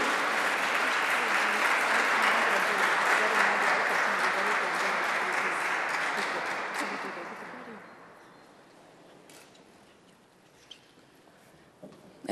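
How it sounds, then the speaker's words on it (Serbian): Applause at an award ceremony for an exhibition of miniatures: a dense, loud crowd clapping that holds steady for several seconds, then fades away to a quiet room with a few scattered claps. "I aplauz, naravno, veliki aplauz za njih."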